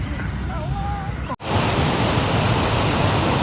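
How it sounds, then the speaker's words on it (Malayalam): A waterfall's broad, steady rush of water fills the scene, loud and continuous, with a brief faint voice early on before the roar becomes even stronger after a short cut. "വെള്ളച്ചാട്ടം സൗണ്ട് കേട്ട്"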